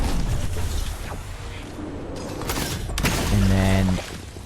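A big shield potion is gulped down in the Fortnite video game, with glugging drink sounds rising near the end amid game noise and booming effects, while a voice talks over it.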